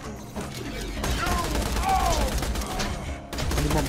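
Rapid machine-gun fire in Borderlands 2 pounds away steadily for most of the stretch, loud and close, with brief game voices and chirpy effects mixed in.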